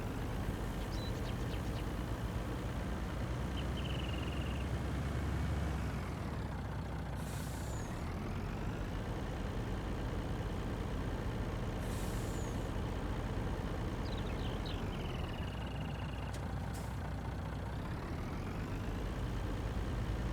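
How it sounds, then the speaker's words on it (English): A truck engine in Farming Simulator 19 rumbles steadily throughout, with a few short air-brake hisses and faint beeps over the low drone. "get this truck started"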